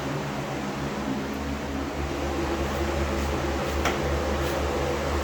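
A DIY downdraft paint booth fan blows air in a garage, making a loud, constant broadband whoosh with a steady low hum underneath and faint ticks.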